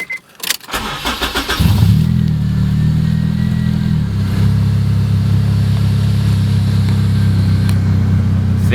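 A K-swapped Honda Integra Type R fires up and settles into a loud, steady idle with a deep, raspy drone close by, no talking over it.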